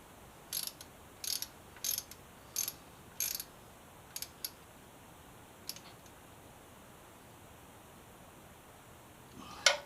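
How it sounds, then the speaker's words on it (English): Ratchet wrench tightening bolts on an MV Agusta F3 motorcycle: several short bursts of quick metallic clicking, spaced about a second apart, then sparse clicks and a final louder clack, close and clear. "Tighten down all the other bolts."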